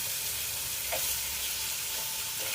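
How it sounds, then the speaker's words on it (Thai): Teriyaki chicken, marinated in oil, sizzles skin-side down in a pan over low heat with no added oil. The frying hiss is steady and close throughout, with no talking. "ย่างบนกระทะค่ะ อันนี้ไม่ต้องใส่น้ำมัน"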